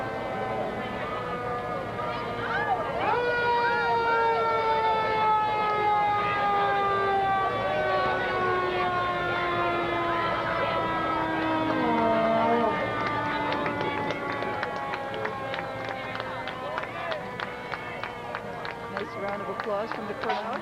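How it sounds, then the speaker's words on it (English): A fire engine's siren wails in long rising and falling sweeps through a street parade for a 50th anniversary, loud and steady, with crowd noise underneath. "I know how the kids love the fire engines"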